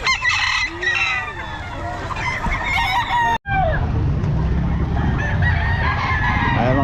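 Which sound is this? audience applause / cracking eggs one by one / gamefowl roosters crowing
gamefowl roosters crowing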